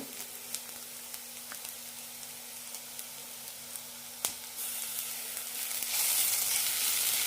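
Ginger garlic paste sizzles with fried onions in a pan. A quiet, steady frying hiss carries light ticks and one sharp knock, and the sizzle swells louder toward the end.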